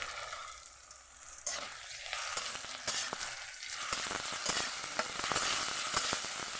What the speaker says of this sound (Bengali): দিয়ে ভালোভাবে এটাকে আমি ভেজে নেব, কাঁচা গন্ধটা যেন ভালোভাবে চলে যায়